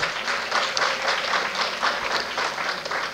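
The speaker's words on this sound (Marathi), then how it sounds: "मॅडमसाठी एकदा जोरदार टाळ्या होऊ द्यात." An audience at a Rotary lecture series claps heartily once the talk ends, producing a dense, sustained round of applause from many hands that fills the room at an even loudness.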